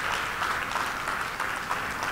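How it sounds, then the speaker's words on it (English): A church congregation claps in praise, a continuous, even wash of many hands clapping at moderate distance, with no voices over it. "Give God a great big hand clap of praise."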